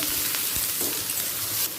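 Green chili and chopped tomato hit hot oil with lightly browned onion, ginger and garlic for a plain tarka, giving a loud, steady sizzle with faint stirring scrapes throughout.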